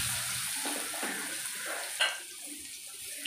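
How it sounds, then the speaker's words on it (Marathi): Chopped onion frying in a pan with cumin and asafoetida gives a steady, even sizzle with a small sharp pop partway through, and no voices are heard. "कांदा व्यवस्थित भाजून घेऊया।"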